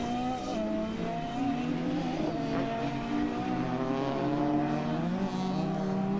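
A rallycross car at Mondello Park races past the tower, its engine droning steadily and rising and falling through the gears as it brakes and accelerates again.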